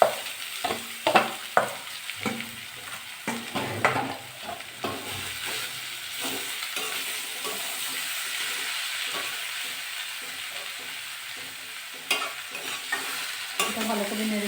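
Jackfruit and potato pieces frying in oil while being stirred in a pan: scraping, clattering strokes of the spoon over a continuous close sizzle, busy at first, then a steadier hiss, with a few more stirs near the end.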